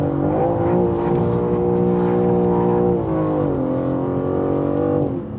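A BMW M3 Competition engine revs hard and steadily while drifting, a loud sustained harmonic drone that shifts pitch around three seconds and again near five, with no talk over it.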